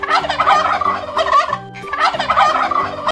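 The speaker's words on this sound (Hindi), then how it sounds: "ये है टर्की," A turkey gobbles in two long, loud, warbling rattles close to the listener, the pair separated by a short pause.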